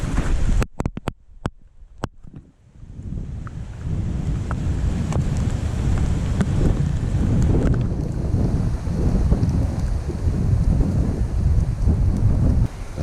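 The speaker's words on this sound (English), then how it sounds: "Rain is beginning." Wind and rain set in as Hurricane Ian approaches a lake, starting with a few sharp knocks and then a steady, loud roar of gusting wind buffeting the microphone.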